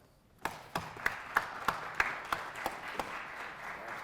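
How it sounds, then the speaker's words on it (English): Scattered clapping from a small crowd at a legislative leadership panel swells into steady applause, with individual sharp claps standing out at a regular pace. "let's all give a round of applause for Speaker Roger Hanshaw"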